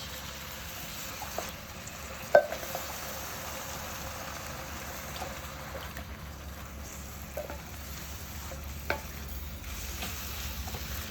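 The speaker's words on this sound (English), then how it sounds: "fry that off in the oil, and then in go our tin tomatoes" Smoked paprika and tinned tomatoes frying in oil for a Moroccan meatball sauce: a quiet, continuous low sizzle with occasional stirring knocks and scrapes of a spoon against the pan, no voices.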